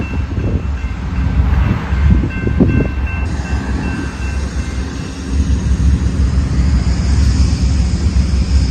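A train rolling past a railroad crossing with a damaged crossing gate, a loud continuous rumble and clatter of wheels, close and steady throughout, with a faint high tone underneath.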